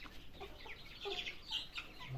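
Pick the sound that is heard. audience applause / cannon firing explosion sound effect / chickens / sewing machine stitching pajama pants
chickens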